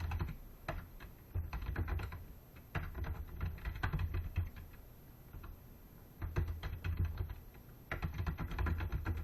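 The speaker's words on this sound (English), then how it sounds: "Let me put in some typing." Steady typing on a computer keyboard, rapid clicking keystrokes in bursts with brief pauses, close and moderately loud, no voices.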